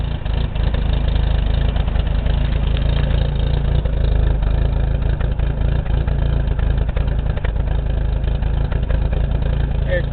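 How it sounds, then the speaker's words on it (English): Suzuki Swift GTi engine idling at about 1200 RPM after a cold start, a steady, slightly lumpy low rumble close by, continuing evenly for the whole stretch. "It's idling at about 1200 RPM right now."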